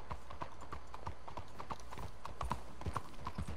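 Horse hooves clip-clop at a steady walking pace in Red Dead Redemption 2, several distinct hoofbeats in an even rhythm, moderately close over a quiet ambient background with no talk.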